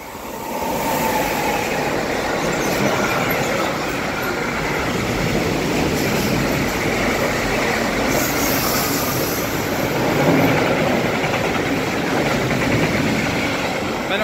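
A freight train hauled by a class 187 electric locomotive rolls through Wächtersbach station, a loud, continuous rumble and rush of wagons passing close by for the whole stretch.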